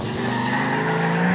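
A car engine drones steadily while driving through busy traffic in GTA 4, close and fairly loud, with a constant hum and faint road noise and no talking.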